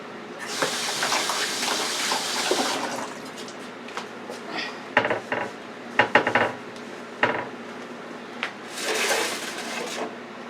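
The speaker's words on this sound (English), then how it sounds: "So let me wash my hands and show you that." Running tap water in a home kitchen as hands are washed, a hissing stream at the start and again near the end, with clinks of dishes and cutlery in between.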